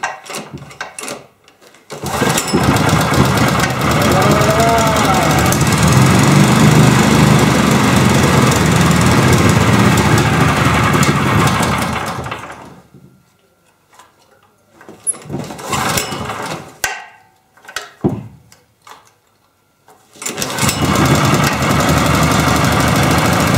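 A 7.5 hp universal small engine runs loudly and steadily for about twelve seconds, then cuts out. Sputtering restart attempts and mechanical knocks follow before it settles again into a steady run.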